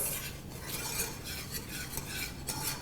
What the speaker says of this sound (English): you're just going to want to continue whisking the whole time